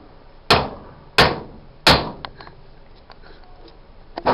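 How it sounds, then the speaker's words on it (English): Three sharp metallic hammer taps on a retaining ring in a Chevy power steering pump, evenly spaced, ring out close by, followed by a few faint small clicks. "I'm just giving that a couple of whacks to be sure that the retaining ring is seated"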